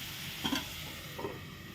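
Star fruit (kordoi) frying in a pan, a soft continuous sizzle with two brief stirring scrapes, close and steady.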